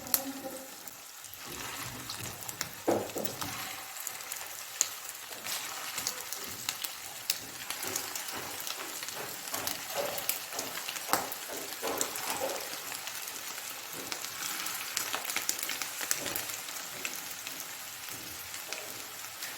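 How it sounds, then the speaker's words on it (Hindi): Kofta meatballs fry in hot cooking oil over a medium flame, giving a continuous close sizzle with scattered pops and crackles throughout. "अब हम कोफ्ते डाल रहे हैं इसमें और इनको फ्राई करेंगे।"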